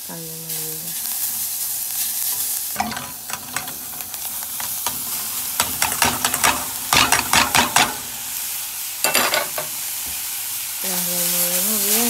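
Ground beef sizzles and fries in a pan while being stirred, with scraping and clatter bursts over a steady loud hiss; a voice speaks briefly at the start and end.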